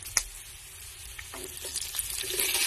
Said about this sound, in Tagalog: ilagay na natin ang gulay na hinimay-himay na maliliit